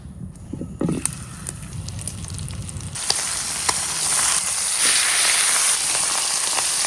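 Whole hilsa fish coated in turmeric, chili powder and salt fries in mustard oil in a frying pan, giving a steady close sizzle that swells louder and denser after a few seconds.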